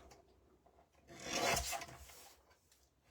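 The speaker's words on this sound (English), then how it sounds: "So I'm just going to put them together and just trim 1/4 of an inch off" A single drawn-out rasping stroke as a quarter inch is trimmed off wooden pieces held together, swelling and fading over about a second in a quiet room.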